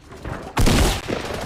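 Video game gunfire: a single loud burst of shots hits abruptly after a brief quieter lead-in and then fades into a rumbling tail.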